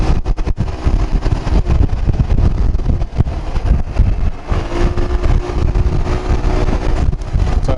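A Deliroad 100 motorbike with a 99.8cc engine accelerates at full throttle on the road, its steady engine drone heavily buried under loud, continuous wind buffeting on the microphone.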